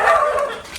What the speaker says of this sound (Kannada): ಇಲ್ಲೊಂದು ನಾಯಿ ಇದೆ,